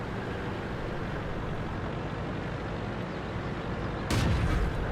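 A tank cannon fires once in World of Tanks as an Object 704 shoots a rising E50, a loud sudden blast near the end standing out from the constant rumbling engine and battle ambience.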